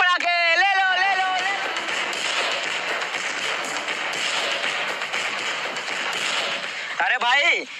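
Firecrackers set off during Diwali crackle in a dense, continuous barrage for several seconds. Voices are heard briefly at the start and end.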